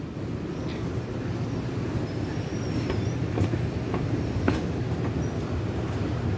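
EMU802+EMU801 electric commuter train at Keelung station, a steady low rumble of the cars with a few sharp clanks and a faint high squeal, loud and continuous without talk.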